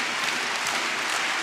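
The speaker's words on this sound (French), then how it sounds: "toute la salle qui se lève et qui applaudit en hommage au président Frédéric Fortet" A basketball arena crowd stands and applauds in a dense, steady roar of clapping that holds evenly throughout, with no voices standing out.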